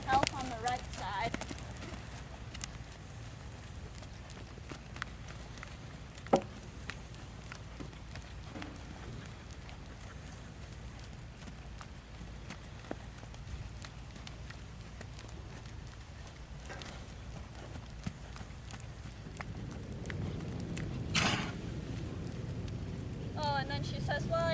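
A horse named Lou Lou walks at an easy pace, hooves clip-clopping faintly and irregularly beneath the voice of a person talking throughout.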